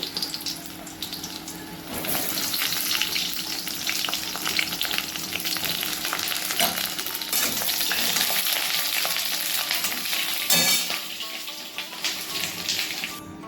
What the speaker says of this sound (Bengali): তেল গরম হয়ে গেছে এবার প্রথমে আমি বেগুনগুলো ভেজে নেব